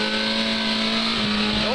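A modified, full-race Honda race car holds a steady, loud engine drone that climbs slightly in pitch toward the end, a close continuous revving tone with no other sounds.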